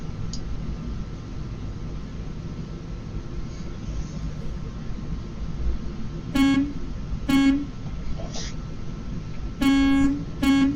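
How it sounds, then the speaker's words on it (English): A steady engine rumble runs underneath as a truck horn in American Truck Simulator honks five times, short tonal blasts, some in close pairs, loud over the drone. "that honked our horn"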